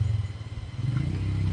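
A motorbike rides along a trail from Lakeside toward the Panchase forest conservation park entrance near Pokhara, its low engine drone steady and close, a rattly clatter over the rumble.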